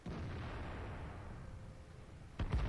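A tank cannon fires in World of Tanks, the AMX AC mle.46 at Prokhorovka, heard as a loud sharp blast near the end after a low, steady rumble of battle ambience.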